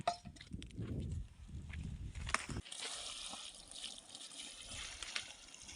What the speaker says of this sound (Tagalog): Ang tubig dada sa gitna.